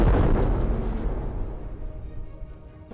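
A tank's ammunition detonates in the Sprocket game, blowing the turret off in one heavy boom that rolls away into a fading rumble over a few seconds, with no talk.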